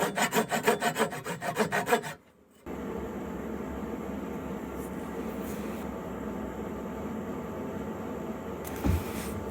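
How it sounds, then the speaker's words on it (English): A Japanese pull saw cuts wood for a grill utensil box, starting with about two seconds of quick, rhythmic rasping strokes, then a steady, softer hiss of continuous sawing. "we're gonna cut it with my Japanese pull saw"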